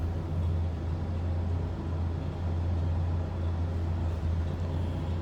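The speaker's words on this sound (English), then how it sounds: "nothing crazy for exhaust. Actually, nice quiet running truck." Steady low rumble of a 1966 Ford F100 pickup engine idling quietly, heard from near the exhaust at the rear, even and unbroken with no talk.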